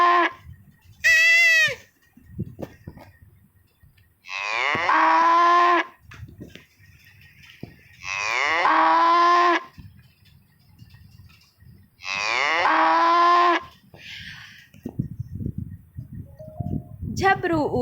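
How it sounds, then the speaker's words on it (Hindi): Three long, loud moos from a cow, spaced evenly a few seconds apart, with a voice and other brief sounds in the gaps between them. "गाय की आवाज सुनेंगे कैसे रंभाई।"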